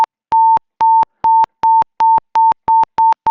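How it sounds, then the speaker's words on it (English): Robotiq adaptive gripper in force mode gives a high-pitched electronic tone pulsing in short, rapid, evenly spaced beeps, loud and clean with nothing else heard. "Once I enter the force mode activated, the pitch change, and I go for high pitch noise."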